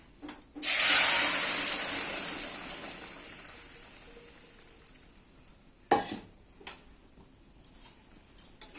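Boiled dal and mango tipped into hot oil tempering, a loud sudden sizzle that slowly fades, followed by clinks and stirring scrapes in the pan.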